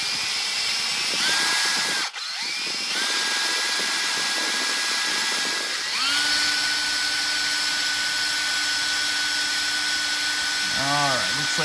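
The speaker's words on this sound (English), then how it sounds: "I'm gonna kind of go slowly with the drill bit." Power drill with a bit boring slowly through a leather belt into a wooden block beneath, a steady high whine that rises in pitch midway, continuous and close with no talk.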